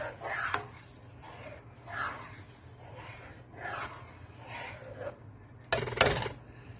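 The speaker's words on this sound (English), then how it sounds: "And now I'm just going to give it a stir." Food is stirred in a pot on the stove: quiet, soft scraping strokes repeat about once a second, close but faint, with a slightly louder scrape near the end.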